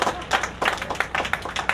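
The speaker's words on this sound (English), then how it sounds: "let's give a big round of applause for Mata Kausilya." Audience applause for Mata Kausilya at a Sunday Hindu gathering: short bursts of clapping from a modest crowd, uneven and fairly near, lasting under two seconds.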